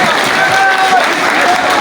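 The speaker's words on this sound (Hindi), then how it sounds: "एक बार जोरदार तालियों से स्वागत करो।" A crowd applauds loudly and densely to welcome a cabinet minister at a political reception at a border. The clapping is steady and close, with voices mixed in.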